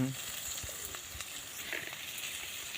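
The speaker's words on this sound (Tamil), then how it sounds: "நல்லா வதக்கவும். பொன்னிறமாக வறுக்கவும், வதக்கி எடுக்கவும்." Head meat curry (thalai kari varuval) frying in a pan, a steady close sizzle with scattered crackles and light stirring scrapes throughout, no voices.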